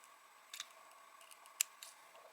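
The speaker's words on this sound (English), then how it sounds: "I'm just going to cut this out for now." Small scissors snip out a nail art decal, giving a few faint, crisp cuts spaced unevenly in a quiet room.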